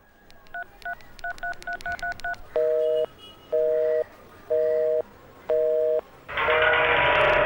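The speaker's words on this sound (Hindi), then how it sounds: "मैं वापस फोन करता हूँ" A telephone number is keyed in as a quick run of short touch-tone beeps, followed by four longer evenly spaced ringback tones and then a burst of noisy line static.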